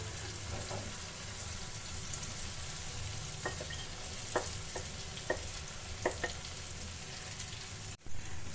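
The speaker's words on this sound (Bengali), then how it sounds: "মশলা থেকে যখন তেলটা ছেড়ে দেবে তখন ওর ভেতর আমি দিয়ে দেব পনিরটা" Paneer and spice masala frying in oil for a Bengali paneer dish, a low steady sizzle broken by a handful of brief spoon taps and stirring clicks, ending in a short thump.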